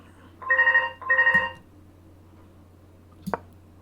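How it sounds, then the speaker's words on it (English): A telephone rings twice in close succession, each burst a bright warbling trill lasting about half a second, followed by a short click and then quiet room tone. "Oh, there's the phone again."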